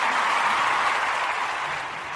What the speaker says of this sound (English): So I'll put this round of applause in because I can